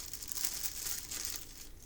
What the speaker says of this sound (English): Yeah, crinkle.